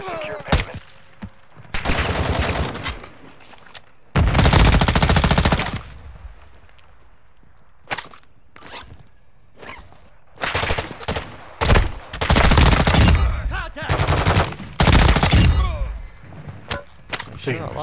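Automatic gunfire in a tactical shooter video game set around a Los Angeles cartel contract: long loud machine-gun bursts alternate with single sharp shots and brief pauses, with a voice heard between some of the bursts.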